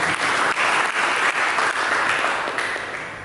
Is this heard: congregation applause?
yes